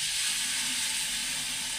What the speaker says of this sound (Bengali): মশলাটা একটু ভেজে নিয়েছি